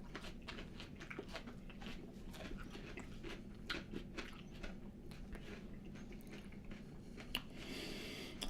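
Someone bites into a jalapeno pepper, giving a run of quiet, close crunching and wet chewing sounds over a low background hum, with one sharper crunch near the end.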